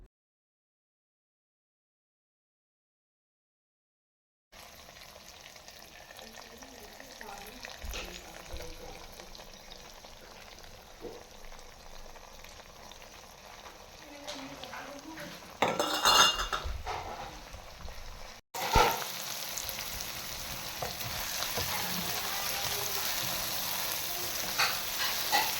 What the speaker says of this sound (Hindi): इसी मसाले में मटर हमारे पक जाएंगे, अच्छी तरह से पक जाएंगे।